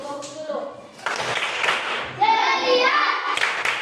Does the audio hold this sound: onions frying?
no